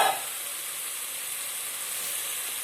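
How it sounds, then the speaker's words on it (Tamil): Soy sauce hits a hot pan of chicken and capsicum with a brief sharp burst, then settles into a steady loud sizzle that carries on evenly. "நான் இப்போ கொஞ்சமாக சோயா சாஸ் சேர்த்துக்கிறேன்."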